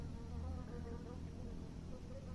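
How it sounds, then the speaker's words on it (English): A bee buzzes faintly around an outdoor catfishing spot beside a creek, a steady, soft, wavering hum with no talking. "Go on, you old bee."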